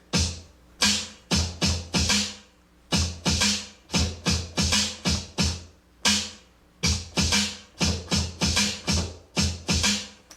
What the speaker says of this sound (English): make turntable drumming sound like this.